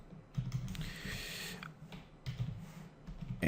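Several quick bursts of typing on a computer keyboard, close and crisp clicking clusters separated by brief pauses, with no talk.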